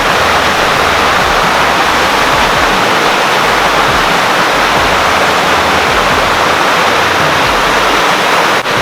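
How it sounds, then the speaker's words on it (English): High Falls on Cheaha Mountain, a waterfall spilling into a freshwater pond, roars with a loud, constant, broadband rush that holds unchanged and close throughout, with no voices. "There's the waterfall in all its glory."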